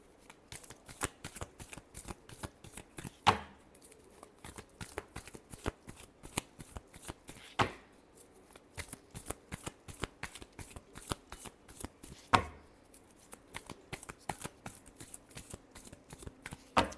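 Tarot cards being shuffled by hand in quick, continuous riffles, crisp rapid flutters punctuated by a few sharper snaps and taps, close and clear with no talking.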